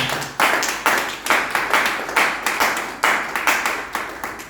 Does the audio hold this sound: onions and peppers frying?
no